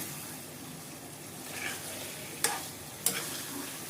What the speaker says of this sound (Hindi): इस तरीके से हम डाल देंगे इसको और इसको इस मसाले के साथ हम मिक्स कर देंगे